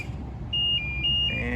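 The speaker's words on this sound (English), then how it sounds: "I have pushed this button to activate the lock system," A steady tonal warning signal from a canal lock system, activated by a push button beside a lake, beeps in two sustained pulses over low rumbling background noise.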